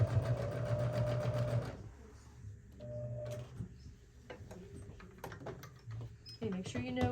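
A sewing machine stitches fabric for a tote bag in a steady whirring burst, then stops, followed by short stitching bursts, handling clicks and rustles while someone talks.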